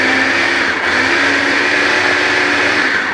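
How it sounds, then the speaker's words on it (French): A small baby-food blender whirs loudly and steadily while mixing an emulsion for salmon-stuffed cabbage, one continuous close motor drone with no talk. "Alors moi je prends mon petit mixeur, c'est un mixeur pour bébé."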